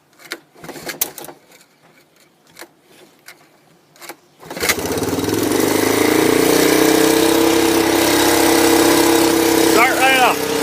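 A three-wheeler's small engine cold-starts with no working choke after several clicks and clatters. It catches at once and settles into a loud, steady mid-pitched idle that runs on alone.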